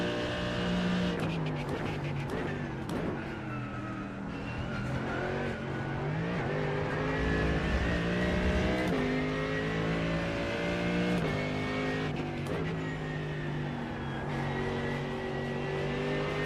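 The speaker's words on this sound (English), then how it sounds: "The engine's really loud in this car" GT3 race car engine in the iRacing sim at Atlanta or Monza, loud and continuous, with rising revs, repeated gear shifts and downshifts over about sixteen seconds.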